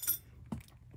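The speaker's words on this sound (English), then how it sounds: "I can literally hear so much glass right now." Glass clinks and jangles in a brief close burst, a bright tinkle followed by a couple of softer knocks, faint against quiet background with no talk.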